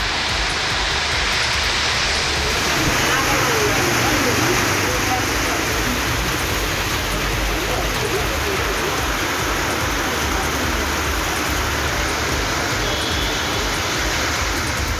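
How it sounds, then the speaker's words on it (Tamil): Heavy rain pours steadily in Tiruvarur district, a dense, continuous roar of downpour that stays loud and unbroken throughout. "2 மணி நேரத்திற்கும் மேலாக கனமழை பெய்தது"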